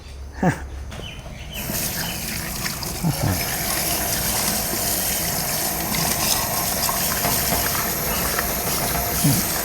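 Pineapples are washed under running water, with a steady close gush and splash of flowing tap water that begins after a brief quiet moment and continues evenly, with a few faint knocks.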